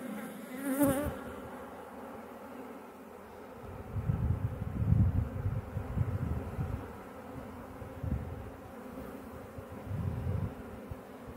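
Honeybees drone around an open hive in a dense, soft buzz that swells and fades as they fly near, with faint outdoor rustle and no speech.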